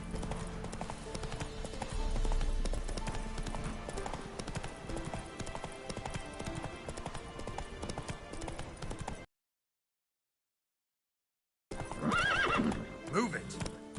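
A horse in a video game trots with steady clip-clopping hooves and lets out a whinny, with a short silent gap partway through.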